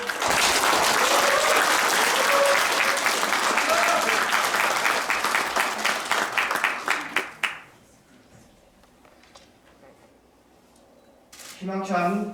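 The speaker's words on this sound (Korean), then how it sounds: "우리 간단하게 격려의 박수 한번 부탁드립니다" Dense, loud crowd applause at a political party's New Year gathering, sustained for several seconds then dying off quickly, followed by quiet room tone and a brief voice.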